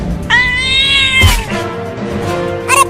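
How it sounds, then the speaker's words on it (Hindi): A cartoon cat lets out a loud, drawn-out meow, then a shorter second cry and a brief third yowl, bright and close against a busy cartoon soundtrack. "वो बिल्ली मेरा बड़ा आइसक्रीम लेकर भागने लगी।"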